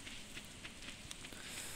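Rain falls in the Stardew Valley video game as a faint, steady hiss of patter, with soft scattered drop ticks and no voices.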